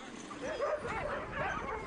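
Sled dogs that live outdoors at forty below yip and bark in short, excited bursts. A few howling, whimpering notes rise and fall, fairly close and steady throughout.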